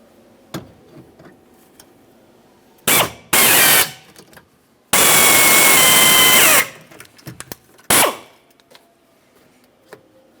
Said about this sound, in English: Continue on with a 3/8 drill bit.